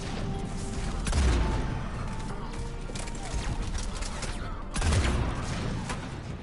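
Bursts of gunfire in Mass Effect 3 come in clustered volleys, with two heavier impacts standing out amid busy, crackling combat noise.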